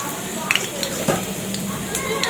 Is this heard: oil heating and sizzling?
yes